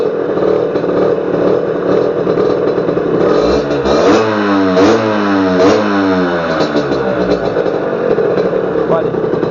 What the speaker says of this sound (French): Donc j'ai fait un petit démarrage de la moto.